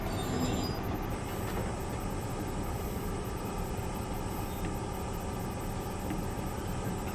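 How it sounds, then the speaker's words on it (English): An NZR DJ class diesel locomotive on the Midland Line near Arthur's Pass in a train simulator game, giving a steady, loud, continuous engine rumble with a broad hiss over it, unbroken and with no talk. "That's our train right here."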